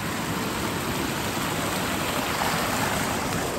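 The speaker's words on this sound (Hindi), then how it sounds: "पानी बह रहा है" Steady rushing flow of a stream along a steep trekking route near the Tilkeshwar Mahadev temple in Udaipur, continuous broadband wash without pause, fairly close and filling the scene.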